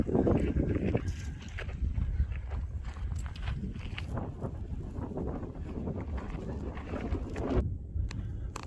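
Strong mountain wind buffets a microphone on a long-distance hiking trail, a steady loud roar and rumble throughout with gusty fluctuations and a brief lull near the end.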